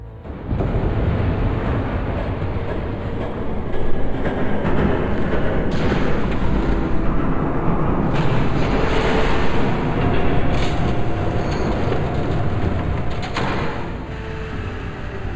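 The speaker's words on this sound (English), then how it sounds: "There's a train coming." A train rumbles past in the Batman Telltale Series game, a loud, steady roar that fills the scene from start to finish with a slight surge midway and no talking over it.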